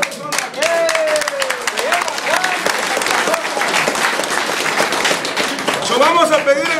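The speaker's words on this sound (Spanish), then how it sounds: "¡Un aplauso para esta persona!" A crowd of farm workers at a union assembly in a Capitol cafeteria bursts into dense, loud, sustained applause after a vote, with voices and cheering mixed through the clapping throughout.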